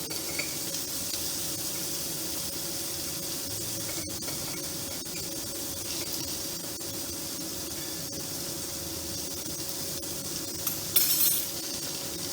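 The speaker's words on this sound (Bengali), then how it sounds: "এবার মশলার বাটি জলটা ধুয়ে ধুয়ে আমি এটা দিয়ে কষবো" Spices sizzling in a pan as water rinsed from the spice bowl is added for a potato and pointed gourd vegetarian curry, a steady close hiss with faint stirring and a brief louder burst near the end.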